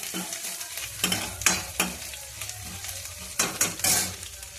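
Ginger, garlic and chilli paste frying in a hot kadai for a suran shaak, stirred in repeated sharp scraping strokes over a continuous sizzle, close and fairly loud.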